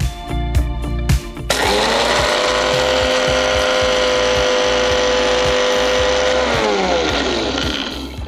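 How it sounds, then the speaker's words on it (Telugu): A kitchen mixie grinder whirs loudly for about five seconds, reducing dry ingredients to powder for a malai sandwich, starting abruptly after some rattling and clicking, then winding down near the end. "ఇలా మిక్సీ పెట్టుకోవాలి"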